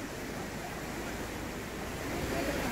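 River Nzoia rushing beneath a swinging footbridge, a steady broadband roar of flowing water, close and continuous, swelling slightly near the end.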